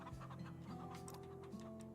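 Chickens cluck softly in the Farm Together 2 farming video game, several short pitched calls over steady background game music.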